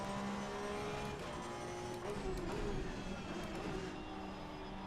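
Porsche 911 GT3 Cup 992 race car engine in Assetto Corsa Competizione at Circuit of the Americas, a loud, steady high-revving drone held on throttle, with a brief swell midway and other cars faintly around.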